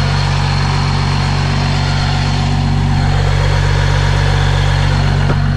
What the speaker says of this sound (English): it makes like a real loud whistle